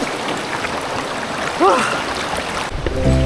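Clean, cold river water flows in a steady, close rushing wash at an outdoor camping spot in Dibut, Aurora, with a brief chirp and some background noise partway through.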